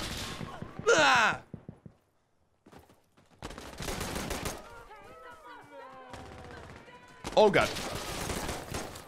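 Makarov pistol shots and surrounding gunfire ring out in the video game Insurgency: Sandstorm, with sharp separate reports and bursts at close range, mixed with groans and exclaimed voices.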